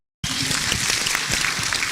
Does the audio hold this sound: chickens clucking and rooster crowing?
no